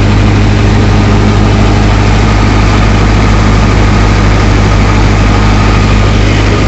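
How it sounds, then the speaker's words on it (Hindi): A tractor drives a mustard thresher at 1600 rpm. The engine and machine roar loud and steady at close range with a constant low hum throughout, and there is no talking. "1600 आरपीएम पर ट्रैक्टर चल रहा है"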